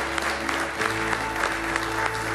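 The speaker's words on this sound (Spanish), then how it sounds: "Un aplauso le damos fuerte a Paquita" A studio audience claps steadily for Paquita during a live morning TV show, dense even applause filling the room at strong level throughout.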